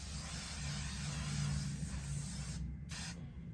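Hair oil sheen sprayed from an aerosol can onto natural 4B/4C hair, a steady close hiss lasting about two and a half seconds, then a brief pause and a short final burst.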